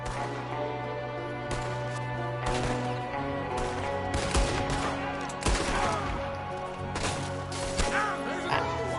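Rapid gunfire in Red Dead Redemption 2: a shootout with repeated loud shots and cracks spread through the whole stretch, some in quick bursts, over a dense background of game noise.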